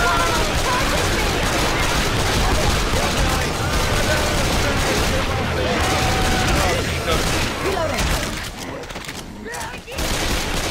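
Rapid, dense gunfire fills a Left 4 Dead 2 zombie firefight, near and loud bursts overlapping almost continuously before thinning toward the end, with game sounds mixed in.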